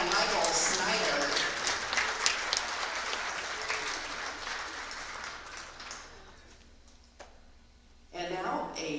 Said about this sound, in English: please stand and give a big round of applause for our officials today, Jeff Brooks, Jacob Russell, and Michael Sny